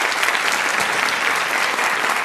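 A studio audience at a Brazilian tribute program gives loud, dense, continuous applause for guest Daniel de Souza, sustained evenly from start to finish with no gaps.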